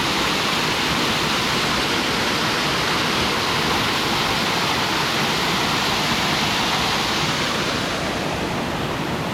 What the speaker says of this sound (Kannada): ತುಂಬ ಎತ್ತರನ ನೀರು ಬರ್ತಾ ಉಂಟಿದೆ.